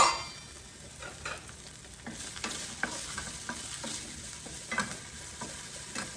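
Zucchini sizzles and fries in a pan, a soft continuous crackle broken by scrapes and stirring clatters from a utensil.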